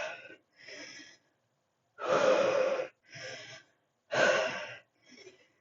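Heavy panting breaths during an exercise routine between bridge sets before a plank, coming in loud and short bursts: two weaker exhales, then two strong drawn breaths, then a faint trailing one, with no talking.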